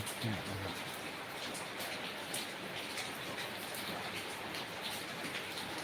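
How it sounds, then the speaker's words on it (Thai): Steady rain from Storm Bualoi falls in a dense, even hiss, a constant wash of drops with no break. "มาพักผ่อนฟังเสียงฝนได้นะครับ"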